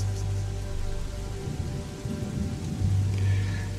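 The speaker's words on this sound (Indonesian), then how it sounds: "tidak mungkin aku menerobos hujan yang sangat besar itu" Heavy rain pours in a steady loud hiss while low thunder rumbles swell underneath, with no voices.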